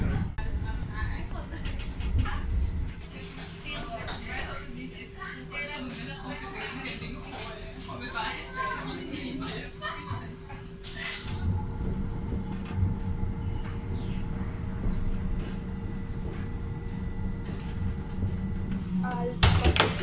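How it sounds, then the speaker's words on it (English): A tram rumbles along its rails in the Netherlands with a low, continuous rolling drone and occasional rattles, while people chatter in the background. "the tram begins."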